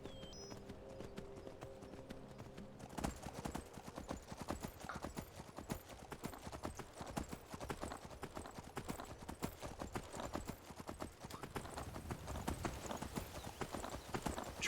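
Horse hooves clip-clop in a steady trotting rhythm in the video game Skyrim, continuous and fairly soft, with a brief whinny-like tone at the start.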